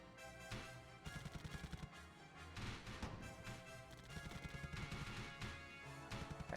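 Gunfire rattles in the World War II strategy game Theatre of War, French campaign, with dense overlapping rifle and machine-gun shots and crashing impacts in continuous bursts, fairly quiet in the mix.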